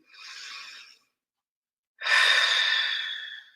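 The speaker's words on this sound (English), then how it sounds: "just tune into your breath. You're breathing in," Slow, deep breaths drawn close to the microphone: a short airy inhale, a second of silence, then a longer, stronger breath in, quiet and unhurried with no talk.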